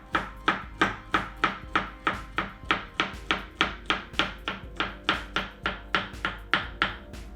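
Knife chops steadily through onion on a cutting board, around twenty evenly spaced crisp strokes at a quick regular rhythm, close and clear with no talking.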